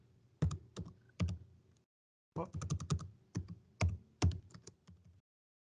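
Someone types on a computer keyboard, producing close, quiet key taps in two short bursts separated by a brief pause, in a quiet room with no voices.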